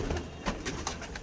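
Pigeons of a pure-breed stock in a breeder's loft setup give soft, low cooing, a few short rounded coos close by over a murmuring background.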